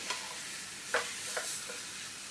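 A rump steak sizzles quietly on a griddle taken off the heat, a soft, even hiss with a few brief scraping or shifting sounds, close and with no speech.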